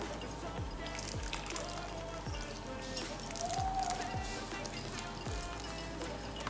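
Whey from curdled milk for homemade fresh cheese trickles and drips through a cloth-lined colander into a salad bowl below, a steady soft liquid patter with faint squishy dribbles throughout.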